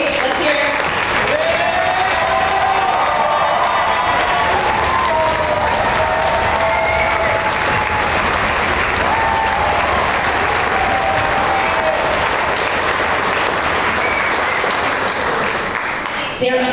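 A large concert audience applauds middle school band teachers at an honor band concert, with sustained, dense clapping and cheering at full volume and voices mixed into the crowd noise throughout.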